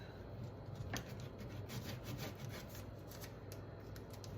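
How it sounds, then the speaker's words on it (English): A knife slicing blue hake fish fillets in half on a board, giving a steady soft scraping and sawing texture close up with faint repeated strokes and no talking. "I'm going to cut these fish fillets in half."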